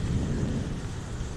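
Loud rain pours down during a thunderstorm, a dense, steady roar close to the microphone with a low rumbling undertone and no pauses.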